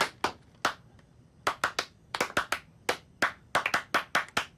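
A small group claps at a home family dinner, giving a few scattered, uneven bursts of close, sharp handclaps that thin out and then pick back up.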